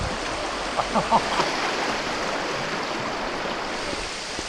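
Steady broadband rush of falling water from a Smoky Mountains waterfall, constant and fairly loud, with a few brief faint tones near the start.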